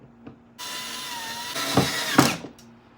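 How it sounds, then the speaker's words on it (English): A power screwdriver drives screws into a wall to fit a magnetic wall light mount, giving a steady whirring buzz for about two seconds that ends with a couple of clicks and knocks. The sound is close and no one speaks. "get the screws that comes with it and just screw it in it."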